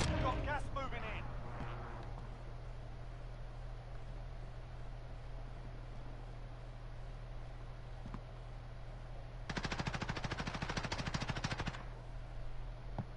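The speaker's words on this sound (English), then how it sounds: "They shooting at you." Automatic gunfire from the video game Modern Warfare Warzone sounds in a dense burst of rapid shots late in the clip, with a few sharp shots near the start over a steady engine-like background drone.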